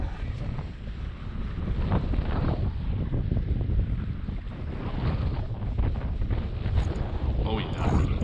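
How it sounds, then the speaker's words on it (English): Strong wind buffets the microphone out at sea near Montauk during kayak fishing, a constant loud roar with water sloshing against the kayak hull and no voices. "This wind is not really going to let up today."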